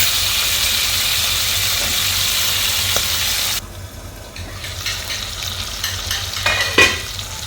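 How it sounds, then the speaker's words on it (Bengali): Cubed potatoes fry in a pan after prawns, with a loud continuous sizzle that drops off abruptly midway. Quieter hissing and a few utensil clinks follow. "আমি এখন এটার মধ্যে আলুটাও ভেজে নেব।"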